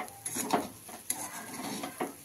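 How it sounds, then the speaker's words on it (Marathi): Spoon or spatula gently stirring red pumpkin bharda bhaji with a little oil in a kadhai, soft scraping and light clinks against the pan at a slow, irregular pace, close and quiet. "हलक्या हाताने असं हलवून घेऊ"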